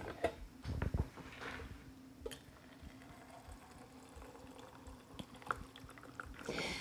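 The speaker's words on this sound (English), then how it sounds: "With the tea leaves in its base, we fill it with 12 ounces of 180 degree water." Hot water at 180 degrees pours over tea leaves into a plunger-style brewer, a faint, steady liquid trickle with small clinks and splashes at the start, quiet and without talking.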